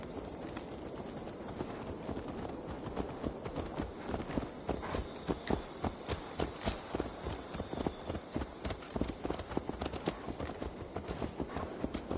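Horse hooves clip-clop steadily at a walking pace in the video game Assassin's Creed Valhalla, a repeated near rhythm over a dense background of game ambience.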